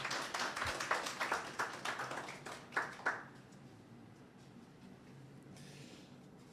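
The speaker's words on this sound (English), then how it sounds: "Please give him a loud round of applause as he comes." A small audience at a university college launch event applauds the dean of medical sciences as he comes forward, several seconds of scattered, moderately faint clapping that fades out, leaving quiet room tone.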